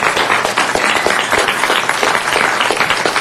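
Audience applause at a city council meeting, a dense, loud and continuous patter of many hands clapping, sustained throughout without voices.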